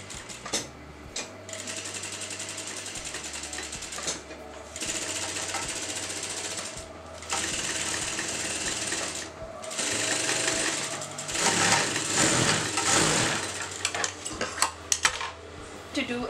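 Sewing machine stitching a single-folded strip of fabric for a belt on a frock, running in steady bursts with brief pauses, close and fairly loud with no talking.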